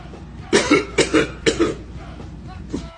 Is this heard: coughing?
yes